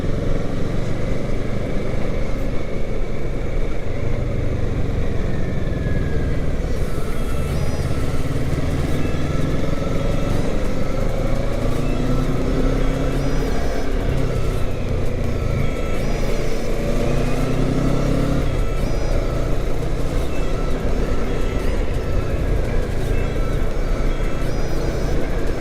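A Ninja 650 motorcycle's engine hums steadily while an oncoming car passes on a curving road toward a waterfall in Chiang Mai, a continuous loud mix of engine drone and wind with no speech.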